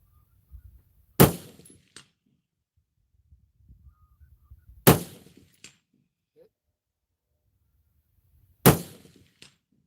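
Rifle shots striking a steel swinger target: three loud, sharp cracks several seconds apart, each with a brief ringing tail, with faint low rumbling and soft handling noises between them.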